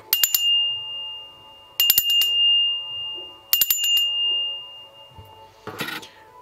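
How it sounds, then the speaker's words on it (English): A small bell, rung to open a card reading, gives three bright ringing strikes about two seconds apart, each leaving a long clear tone that fades. A final noisy rustle follows, with no talking. "I am going to ring the bell now"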